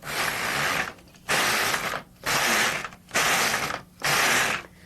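Five long, loud ratcheting passes with short pauses between, the carriage or dial mechanism of an LK150 knitting machine clattering after the stitch size is turned up to 9, with no talk.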